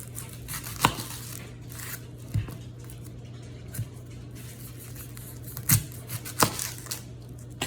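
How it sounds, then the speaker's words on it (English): A knife chops through the ends of an onion on a cutting board, giving a few sparse, crisp thuds and slices over a quiet room hum. "So the first thing you're gonna do is cut off both ends."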